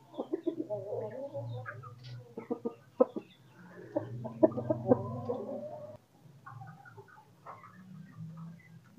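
Young, slightly unwell hens cluck and murmur close by in a poultry pen, a run of soft irregular clucks and chatter with brief pauses and no talking.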